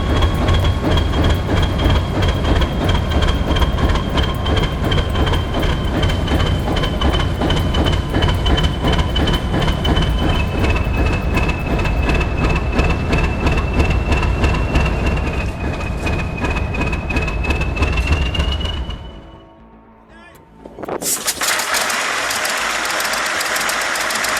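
A 1,600 horsepower V12 diesel locomotive roars steadily and loudly at close range, a dense continuous drone with a whining tone on top, before cutting out briefly and returning.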